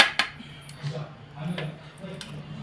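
Dinner plates clink and knock together in a home kitchen at mealtime, a few light, scattered ceramic taps over a low background murmur.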